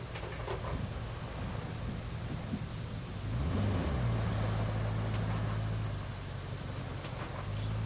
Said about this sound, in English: We've had rain on and off the whole time on this map so far.